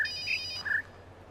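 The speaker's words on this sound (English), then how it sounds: "A phone ringing while you're trying to hear the bird tweeting." A synthetic phone ringtone in the video game The Witness trills twice in short electronic bursts, with a steady low hum underneath and no voices.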